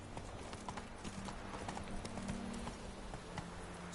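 Roach, Geralt's horse in the video game The Witcher III, trots along with rapid, even clip-clopping hooves close by, a low game tone humming underneath.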